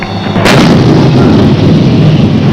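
An artillery gun fires on command, one loud sharp blast followed by a long rumbling boom that rolls on and decays slowly, close and dominant with no talk.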